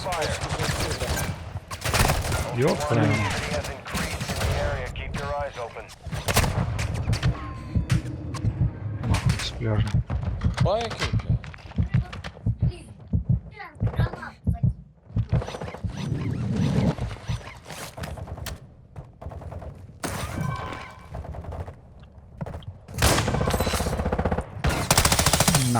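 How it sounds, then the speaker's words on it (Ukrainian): Bursts of automatic and single gunfire ring out in Call of Duty Modern Warfare II Warzone 2.0 DMZ, repeated volleys near and distant throughout, with players talking over the shooting. "ззаді десь стріляють"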